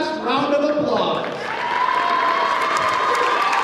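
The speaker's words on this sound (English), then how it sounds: "Let's give them one last round of applause." A gym crowd at a high school volleyball game, Powers Lake/Burke Central versus Tioga, gives a sustained round of applause for the seniors: dense clapping mixed with cheers and shouting voices, loud and continuous.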